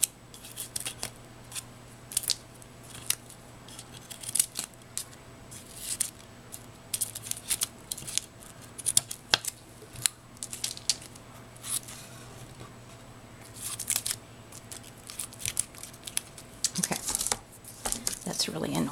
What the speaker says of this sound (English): I have another pair of scissors that are bigger, that cut paper pretty well.